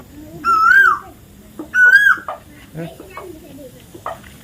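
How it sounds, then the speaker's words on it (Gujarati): Two loud, rising whistled calls of an Asian koel ring out close by in the evening, each about half a second long, with faint background chatter and softer calls between. "કોયલ ટહુકારા કરે આ બાજુ બધામાં"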